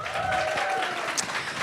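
A studio crowd claps for guests on a French-language podcast, a short continuous burst of applause heard under a host's voice.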